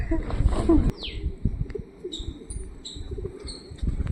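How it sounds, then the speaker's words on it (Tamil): Pigeons at Kathithamalai Murugan hill temple coo and chirp in a few short calls, with some wing movement amid a low outdoor rumble and a brief voice near the start. "வாயில போட்டுற போது நிறைய புறா இருக்குங்க. மேலே பாருங்க பறந்துக்கிட்டு இருக்கு"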